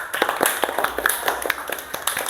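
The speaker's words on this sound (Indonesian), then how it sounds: "Tepuk tangan buat kalian sendiri yuk." A classroom of students claps together in a brief burst of applause, sharp uneven hand claps in a fairly quiet room with no talk over them.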